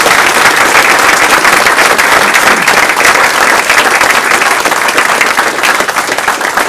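Sustained applause from an audience filling a community hall during a New Year's address, dense steady clapping that runs loud and unbroken throughout.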